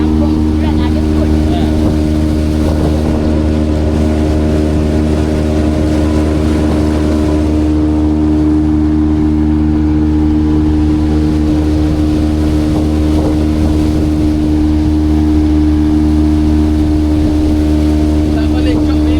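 Motorboat engine running steadily on a river, heading toward a fishing raft: a loud, continuous low drone with strong steady harmonics and wind buffeting, with faint voices underneath.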